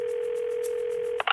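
A steady telephone tone sounds close and loud for about a second, then breaks into two short chirps as an outgoing phone call connects.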